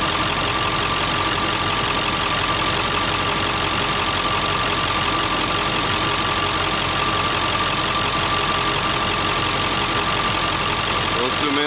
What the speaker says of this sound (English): So as she's running, make sure there's no leaks anywhere underneath.